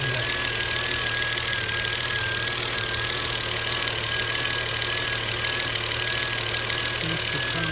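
A Volvo S60 T6 3.0-litre engine makes a loud clicking sound, a fast, steady ticking over a constant idling drone, close up and unbroken.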